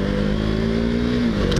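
A KTM Duke motorcycle accelerates on a road in Pattaya, its engine giving a loud, close, steady drone with a rising tone that climbs and then drops at a gear change.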